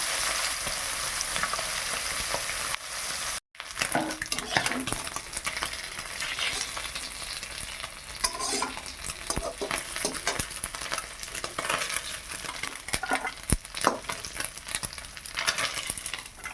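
Small chuno fish fry in a pan with a continuous hissing sizzle while being stirred, with frequent scraping and clattering. There is a brief gap early on, and no one speaks.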